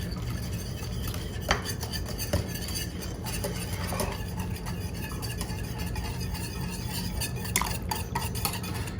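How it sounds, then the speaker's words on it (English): Cake mixture with milk being whisked in a bowl, a continuous close scraping and swishing with occasional clicks of the whisk against the bowl. "And then we are going to whisk the mixture for 1 minute."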